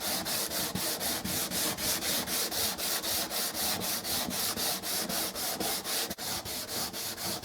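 Sandpaper is worked by hand across a painted wooden window sill in quick, even back-and-forth strokes, a close, rhythmic rasping that repeats about four times a second.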